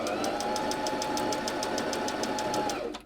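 A sewing machine runs a straight stitch through T-shirt fabric, its needle ticking in an even, fast rhythm over a steady motor whir, close and continuous for about three seconds before winding down; no talking.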